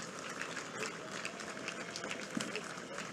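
Applause from an audience at an official tax directorate ceremony in Lualaba launching the 2026 vehicle tax sticker sales, a steady dense patter of clapping at moderate distance with some voices mixed in.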